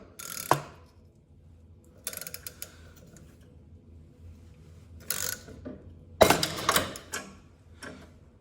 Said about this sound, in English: you're just gonna put a socket on here and slowly start twisting, and this should just pop right off